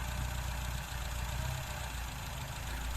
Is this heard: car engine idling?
yes